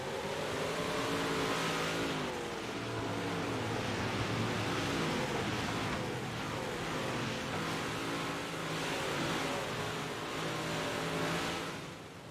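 Dirt track race cars roar around the oval at Super Dirt Week 2023, a continuous loud engine drone with rising and falling revs as the field comes around, heard from the grandstand.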